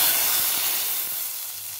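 A sharp, hissing sizzle of cumin seeds dropped into hot ghee, loud at first and gradually easing off.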